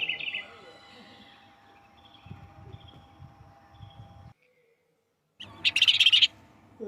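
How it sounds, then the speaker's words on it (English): A cartoon bird gives short high chirping calls, clear and close, at the start and again in a louder burst near the end, with quieter rustling and a brief silence between. "This is a bird."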